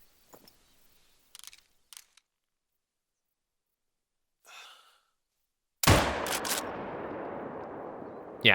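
A single loud, sharp hunting-rifle shot in theHunter: Call of the Wild, striking an animal, cracks out after near silence and a few soft breaths, then leaves a long rolling echo that fades slowly.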